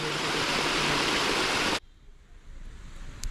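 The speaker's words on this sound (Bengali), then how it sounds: "ঝর্ণা দিয়ে কত সুন্দরভাবে পানি পড়তেছে" Water from a forest waterfall rushes in a loud, broad, continuous roar that cuts off abruptly partway through, leaving only faint background hiss.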